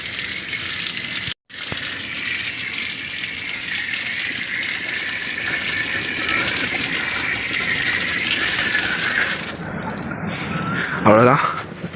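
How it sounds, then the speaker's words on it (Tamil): Water gushes steadily from a foot-washing tap beside a resort swimming pool, a loud, continuous hiss lasting about ten seconds with one brief cut. It then tapers into lighter splashing. "ஓப்பன் பண்ணால் தண்ணி ஊற்றுமா"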